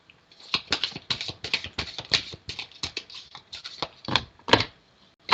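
A deck of cards is shuffled by hand during a card reading. It makes a series of quick, crisp riffling bursts with short uneven gaps, close and clear, and it tails off near the end.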